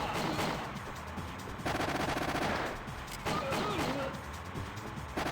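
Rapid, continuous minigun fire in sustained bursts with brief breaks, loud and dense, amid explosive game effects in the video game Winback: Covert Operations.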